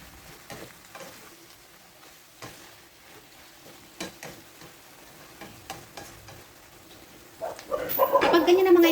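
Pork heart and belly pork fry in a pan with faint stirring and light sizzle throughout, swelling into a louder, steady hiss in the last second or so.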